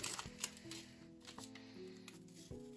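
A small plastic packet of stickers from a K-pop album is torn open and handled, giving close crinkly rustles and a few sharp clicks against faint tonal music in the background, without speech.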